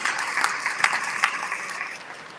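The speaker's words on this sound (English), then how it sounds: "let's give Brother Yusuf Kurma another round of applause" Applause from an audience at an alumni class reunion and community celebration for Brother Yusuf Kurma, a steady wash of many hands clapping with a few sharper peaks, tapering slightly toward the end.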